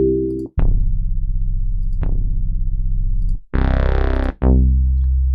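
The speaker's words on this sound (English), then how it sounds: "Let's look at a bass. I can audition the sounds." A synth bass preset is auditioned in Ableton as a few sustained distorted tones, each with a sharp attack, separated by brief gaps and heard alone.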